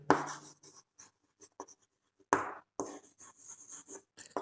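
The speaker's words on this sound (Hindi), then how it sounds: "यहाँ लिखते हैं" A pen scratches across paper while someone works out area calculations, with short bursts of scribbling separated by brief pauses. The strokes are close and crisp, and a louder flurry comes in the second half.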